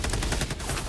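Rapid gunfire striking the player in the video game Helldivers 2, a dense burst of loud overlapping shots crackling continuously through a short moment, with no talk over it.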